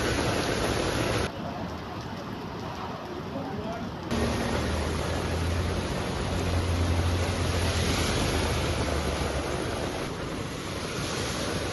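Heavy rain pours steadily over waterlogged streets in Tamil Nadu, a dense continuous hiss with a low wind-like rumble throughout, briefly muffled for a few seconds before returning at full strength.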